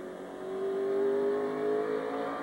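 Ford race trucks driven by Terry Cook and Morgan Shepherd roar past on a short track at the 2001 NetZero 250, a steady loud engine drone with a rising, sustained whine as they run close together.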